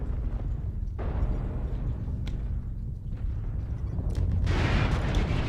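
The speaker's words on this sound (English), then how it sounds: "Airstrike online." Airstrike explosions in MechWarrior Online: heavy low rumbling blasts over a constant deep mech drone, with a sharper burst near the end, loud and close.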